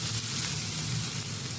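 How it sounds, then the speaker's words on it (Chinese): Chili segments hiss and sizzle in hot oil with minced garlic and bird's eye chilies as they are stir-fried in a pan, a steady close crackle without pauses. "辣椒翻炒一下。"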